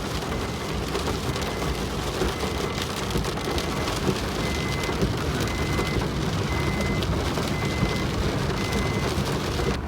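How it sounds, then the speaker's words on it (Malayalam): Heavy rain in Shillong, Meghalaya, pours down in a dense, steady roar without letup, close and loud throughout. "മഴ അല്ലേ, മഴ"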